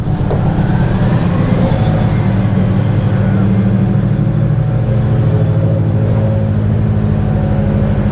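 Subaru rallycross cars, standard road-based machines, idle and rev inside a garage during early-morning preparation, a dense continuous engine rumble close by with a voice talking over it.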